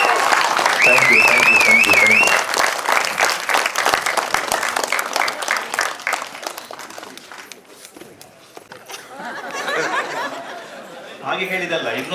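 Audience at a Kannada film premiere in Mangaluru rising for loud applause, dense clapping and cheers with a whistle early, fading into chatter and talk, then a brief renewed burst of clapping.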